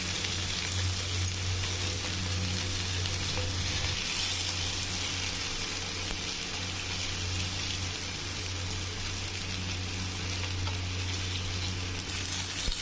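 Paneer cubes frying in ghee in a pan give a steady, soft sizzle with a faint low hum beneath, continuous and close for the whole stretch with no voices.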